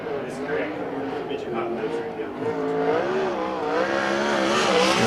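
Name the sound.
sprint car on a qualifying lap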